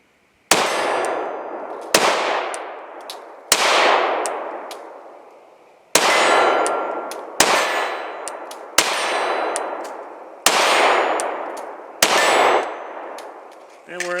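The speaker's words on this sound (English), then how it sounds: "an excuse to shoot the rest of this mag" FN Five-SeveN pistol shooting out the rest of a magazine, eight sharp loud reports at a steady, unhurried pace, each ringing out with a metallic clang and long decaying echo, no talking between shots.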